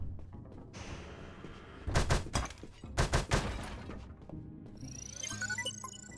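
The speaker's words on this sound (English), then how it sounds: "I'm gonna save before I punch that crate of torpedoes" Punching a crate of torpedoes in the video game UnMetal: two loud bursts of sharp crashing hits close together, followed by a brief clattering, then a rising electronic shimmer near the end.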